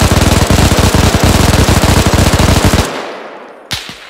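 Rapid automatic gunfire rattles in a loud, sustained burst for almost three seconds during a team shooting exercise, then stops; a single sharp shot follows a moment later.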